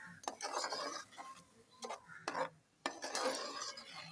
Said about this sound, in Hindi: अब इसको मैं अच्छी तरह से हिलाऊंगी